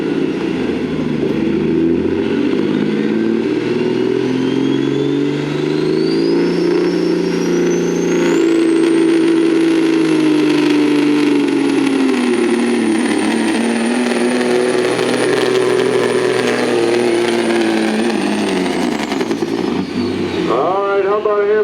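A modified Kenworth W900L extended-hood semi truck's engine at a truck pull revs up and holds a loud, droning roar for a long stretch, pitch rising and falling before a final drop.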